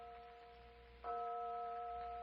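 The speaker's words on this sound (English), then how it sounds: "Just a phantom church bell again." Distant church bell tolling in an old radio drama, a single soft bell strike that hangs and rings on over a faint hiss of background noise.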